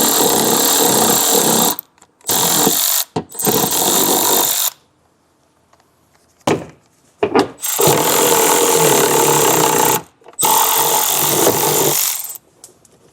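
Power tool on the 10mm nuts under a 2025 Honda CR-V, running in loud close bursts of about one to three seconds with short silent gaps between, no talk.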